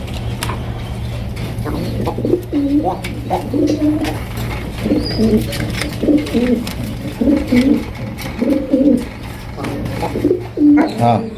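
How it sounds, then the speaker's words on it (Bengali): Black gold Archangel pigeons coo repeatedly in rhythmic, close, fairly loud phrases, with a brief spoken word and a steady low hum in the background. "ব্ল্যাক গোল্ড আর্চেঞ্জেল কবুতর"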